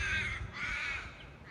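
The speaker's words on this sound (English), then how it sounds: "Those birds can do anything." Crows caw outdoors in two loud, harsh calls close by, with a low wind-like rumble beneath.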